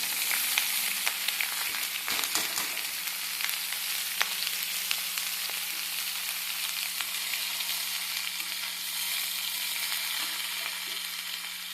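Vegetables with whole cumin, cardamom and bay leaf frying in hot oil: a dense, continuous sizzle up close, with a few stirring clatters near the start and no voices.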